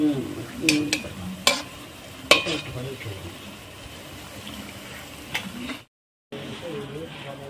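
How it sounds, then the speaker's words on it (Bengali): Palm fruit fritters fry in oil as they are turned, giving a soft, quiet sizzle broken by several sharp clinks and scrapes of a utensil against the pan, with a voice faintly in the background. "বড়াটা এইভাবে উল্টে পাল্টে ভাজতে হবে"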